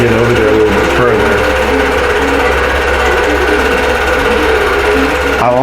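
A long-arm quilting machine stitches across a quilt in a fast, loud mechanical chatter that runs continuously and cuts off near the end. A voice may sound faintly beneath the motor.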